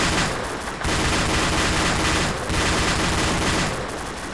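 Dense video game gunfire and heavy weapon bursts from an AAV turret battle roar almost continuously, with loud sustained volleys broken by brief pauses.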